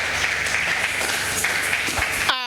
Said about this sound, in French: On acclame pour la parole du Seigneur.